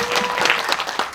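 Audience applause fills the hall at a special guest-visit screening of the Korean film Paran, a dense, steady clatter of many hands clapping at once, close and continuous with no voices over it.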